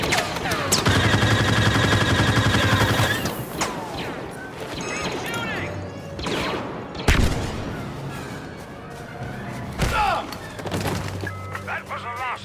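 Blaster gunfire from a gun in the Star Wars Battlefront video game, dense rapid bursts and explosive cracks mixed with game effects, loud and close, with a player talking over the shooting.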